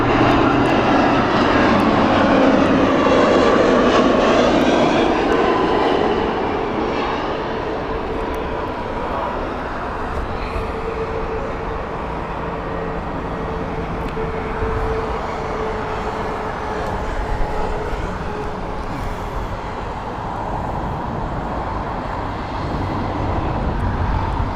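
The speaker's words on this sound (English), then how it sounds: "I think this is going to time perfectly for WestJet for takeoff" A WestJet airliner taking off at Heathrow Airport, its jet engines building to a loud, broad roar that then settles into a sustained rumble as the plane climbs away, with no talking.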